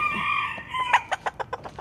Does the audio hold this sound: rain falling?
no